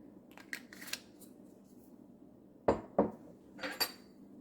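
Green beans tossed with oil and soy sauce in a bowl, quiet clinks and scraping knocks of utensil against dish, a few soft taps followed by two sharper clatters, no talking.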